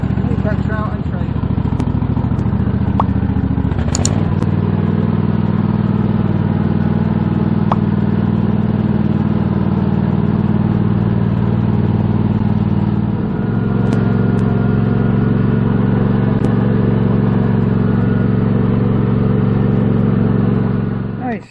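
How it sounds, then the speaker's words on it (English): A new tractor towing a trailer on a campsite, its mid-pitched engine droning loud and close, with the pitch shifting as it pulls away and changes speed, a steady run of over twenty seconds. "getting the new tractor out and trailer"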